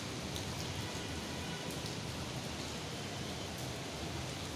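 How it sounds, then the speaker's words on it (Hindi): Steady rain falling outside, a dense, even hiss of drops that stays constant throughout with no voices. "अभी मैं ऑफिस से निकल चुकी हूँ तो बारिश फिर से चालू हो गई है"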